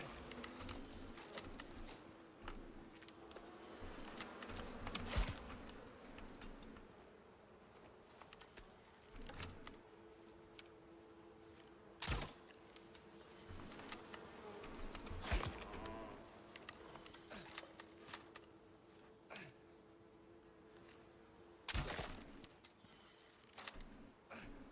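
Bees buzz around a hive in the survival video game Icarus, a faint, steady drone with a few louder swells and sharp bursts rising over it.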